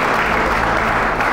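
A brief burst of dense, steady audience applause, loud and close, filling a short moment in a crowd setting.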